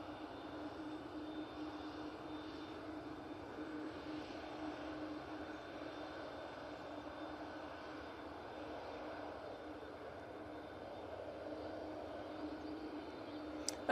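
Faint, distant rumble of an EasyJet airliner's jet engines at Manchester Airport, a steady low drone with a thin whine holding throughout, no voices.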